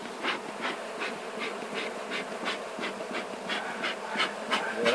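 Agitated honeybees in a hive make a steady, dense buzz with rhythmic pulsing surges about twice a second, close and continuous, no voices over it.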